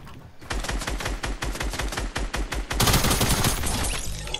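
Rapid automatic gunfire from a Fortnite battle royale match, a dense rattling burst of close, loud shots firing continuously with no pauses.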